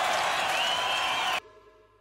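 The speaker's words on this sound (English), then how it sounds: "That clapping's for you" Brief burst of audience clapping on a children's TV show, a dense broadband patter lasting just over a second before cutting off abruptly to quiet.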